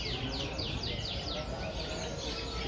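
Canaries sing at an Indonesian bird market in Prambanan, a rapid series of repeated high sweeping trills over a steady din of crowd chatter and market noise.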